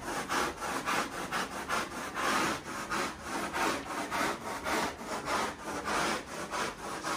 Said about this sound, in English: Now I'm gonna do the second phase, which is a scrubbing process to really work the solutions down into the base of the carpet.